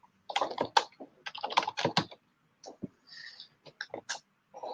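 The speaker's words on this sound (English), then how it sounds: "I'm writing really slowly on a keyboard I've never basically used before" Someone types slowly on an unfamiliar computer keyboard: close, irregular clusters of key clicks with short pauses between bursts, in a quiet room.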